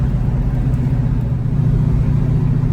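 A 1966 Ford Mustang with a 289 engine runs rough and bucks while driving, giving a steady, loud low rumble with a slightly uneven, jerky pulse throughout. No one speaks.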